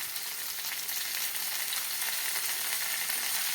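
Chili and turmeric powder frying in hot oil in a pan, a steady bright sizzle that holds unbroken and close up, with no voices.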